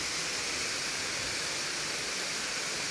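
Katiki waterfall near Araku, India: a steady, broadband rush of falling water that holds even and unbroken throughout, fairly close and moderately loud, with no voices.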